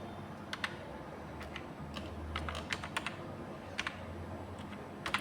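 Computer keyboard typing during Tally ERP 9 data entry, with repeated Enter key presses: quiet, close clicks in short irregular bursts against a soft background hum, no voices.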